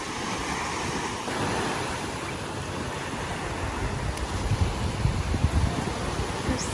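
Ocean surf washing onto a beach in the Philippines at sunset, a steady broad roar of waves with wind buffeting the microphone and a few louder rushes toward the end, no talking.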